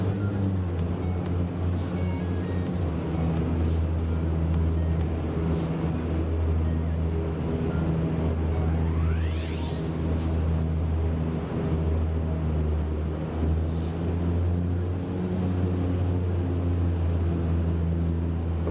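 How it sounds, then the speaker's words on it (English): Croatia Airlines Dash 8 Q400 landing, a steady loud turboprop drone with strong low hum throughout, and a brief rising whine partway through, with no talking. "that was a good landing right there"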